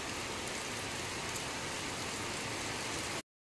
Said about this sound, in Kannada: ಇವತ್ತು ನೋಡಿ ಬೆಳಗಿನಲ್ಲೇ ಮಳೆ ಸುರಿತಾ ಇದೆ